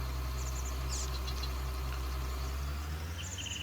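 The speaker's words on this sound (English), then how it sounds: "John Deere tractor." A John Deere 7310R tractor idles in Farming Simulator. Its engine gives a steady, low, rumbling drone with a faint mechanical rattle, close and constant throughout, with no talking.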